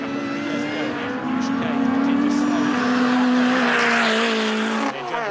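Lotus Elise race cars charge past on the circuit at Castle Combe, a loud sustained engine drone rising in pitch as the pack streams by, then cutting off sharply near the end.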